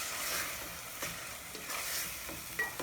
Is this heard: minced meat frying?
yes